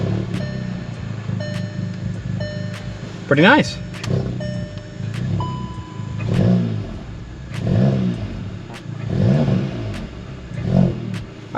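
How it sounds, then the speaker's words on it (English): A tuned Volkswagen MK7 GTI engine cranks and catches on first startup after new parts, then revs in several rising and falling bursts up close, with someone briefly talking between them. "I'm gonna start the car now and make sure we're good."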